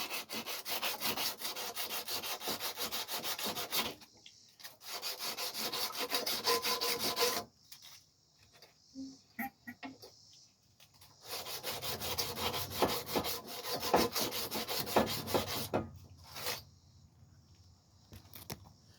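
Repeated scraping and rubbing strokes cleaning an engine's ignition coil magnet, close and fairly loud, coming in bursts with short quiet pauses between them.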